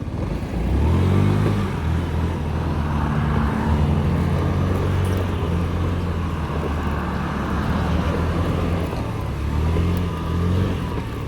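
A Honda Dio 68 scooter's four-stroke fuel-injected engine idles steadily close by, a low even hum with a slight rise in revs near the start and again toward the end.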